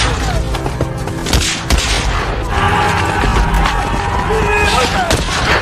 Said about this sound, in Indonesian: Lesatan demi lesatan peluru menghantam penuh kegilaan dan kengerian